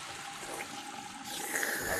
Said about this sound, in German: Es war die Klospülung, die du gezogen hast.